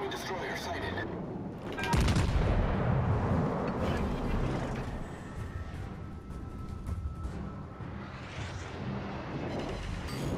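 Heavy naval gunfire in World of Warships: Legends, aboard the Duke of York battleship, breaks out as a sudden booming salvo that then rumbles and rolls on loudly, with a voice talking over the battle noise.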